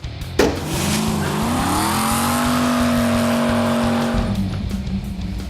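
Car fitted with a Trick Flow LS top-end kit accelerating hard, a loud close V8 rising steadily in pitch through a gear, then settling into a rough idle-like burble.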